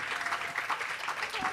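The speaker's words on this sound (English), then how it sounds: "Please give a big round of applause." Audience applause at a piano concert, a dense steady clapping from a crowd that fills the short moment without pause.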